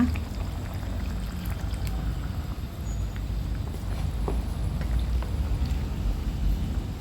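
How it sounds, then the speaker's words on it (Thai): Coconut milk is poured into a pork and fresh bamboo shoot red curry, a continuous rushing wash that holds steady for about seven seconds, close and with no voices. "ใส่กะทิลงไปค่ะ น้ำแกงของเราจะได้เข้มข้นนะคะ"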